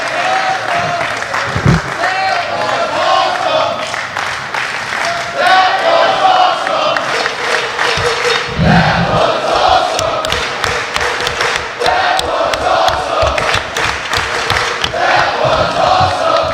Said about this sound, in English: Crowd ramps it up with a big "That was awesome" chant.